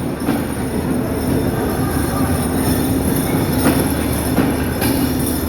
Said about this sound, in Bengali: এই যে ট্রেনটি ঢাকা কমলাপুর রেল স্টেশনের 5 নম্বর প্ল্যাটফর্ম থেকে ছেড়ে যাচ্ছে পঞ্চগড়ের উদ্দেশ্যে